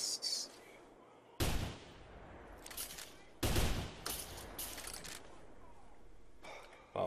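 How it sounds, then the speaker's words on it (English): Rifle shots in the hunting game theHunter (2017): two loud, sharp reports a couple of seconds apart, each trailing off in a long rolling echo, with quieter outdoor ambience between. "Wow, that was a pretty far shot."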